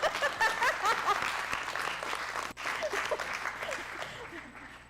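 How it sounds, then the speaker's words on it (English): An audience claps loudly and continuously, a dense sustained applause with a few chuckles mixed in, dipping briefly midway before carrying on. "This is where you clap."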